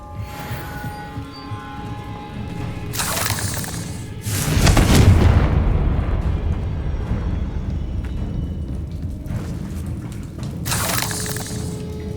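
A Confringo fire spell blasts in Hogwarts Legacy during a fight with a giant spider, a deep booming explosion swelling up after sharp cracking bursts, then a long rumbling tail with more crackling flares near the end.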